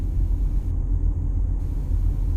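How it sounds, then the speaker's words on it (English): A manual car's engine drones from inside the cabin while accelerating up to fourth gear, a loud, steady low rumble with road noise and no clear break for the shift. "one more gear change, up to fourth gear"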